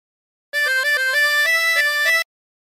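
A harmonica plays a short phrase from a song, a quick run of clear held notes stepping up and down for under two seconds, then silence.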